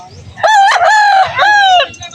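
A rooster crows loudly and close by at an open-air Sunday chicken market in San Jose del Monte, Bulacan, giving one long, two-part call that rises, holds and then falls, over faint background clucking.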